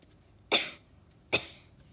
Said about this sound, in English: Poor Pedro has a nasty cough.